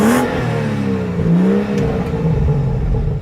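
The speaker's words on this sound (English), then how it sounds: "Let's do a little rev time." BMW M Sport car engine revving, a loud close rise and fall of engine pitch sustained through the whole stretch with no talk.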